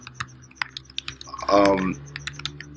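Computer keyboard typing, with quick irregular key clicks scattered throughout and a short burst of busier noise partway through, at moderate volume with no one talking.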